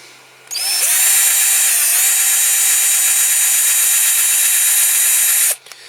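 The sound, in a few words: power drill drilling out rivets on a Matchbox car transporter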